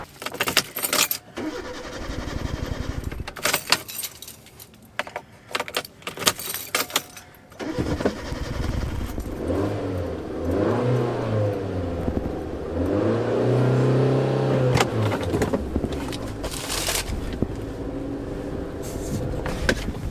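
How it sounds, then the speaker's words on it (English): A car engine cranks and catches after jangling keys and clicks, then revs with a rising, wavering drone that settles into a steady running hum, close and fairly loud. "And that is how we have to start the car. A little rev of the gas, get it going"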